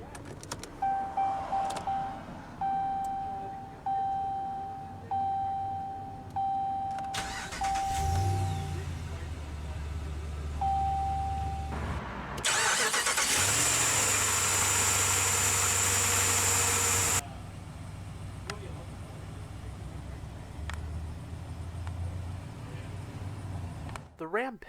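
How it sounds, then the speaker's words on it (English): The 5.7-liter Hemi V8 of a 2016 Ram 2500 pickup cranks and catches, then settles into a steady idle with a low rumble, accompanied by whirring and intermittent mechanical noises nearby. "let's go ahead and start the engine"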